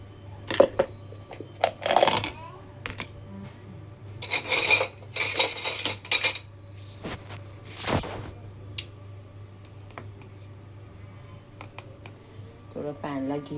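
A pan on a stove as ghee is added, with utensils clinking and scraping against metal: scattered sharp clatters and rubbing noises over a low hum, with someone talking in between.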